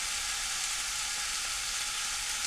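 Steak frying in a covered pan, a steady, loud sizzle with continuous crackle and no breaks.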